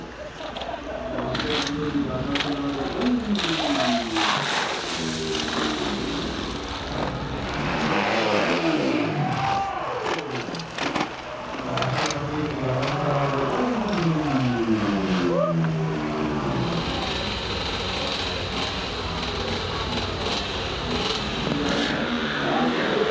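A motorcycle engine revs and strains on a steep, difficult hill climb, loud and continuous with rising and falling pitch sweeps as it throttles up, heard alongside crowd noise and a faint voice.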